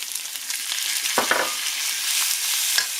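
A cup of onion hits a hot frying pan with a burst of loud, close sizzling that settles into steady frying hiss, with a couple of brief stirring scrapes; no one speaks.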